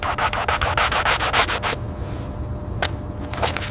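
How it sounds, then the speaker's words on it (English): Quick rhythmic rubbing strokes of sanding a leather edge, loud and close, then a pause with a few isolated scrapes. "Sanding creates a uniform surface for edge finishing."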